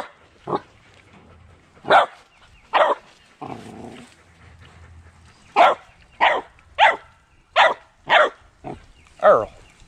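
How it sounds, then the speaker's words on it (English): A dog barks about ten times in short, loud bursts close by, with a softer grunting sound between the barks. "you don't have to bark at them"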